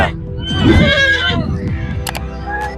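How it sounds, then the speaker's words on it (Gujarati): A horse at a village fair in Junagadh, Gujarat, gives a loud, close whinny that rises and falls for about a second, followed by faint clip-clop and clicks, with voices nearby. "ઘોડો એટલે ઘોડો"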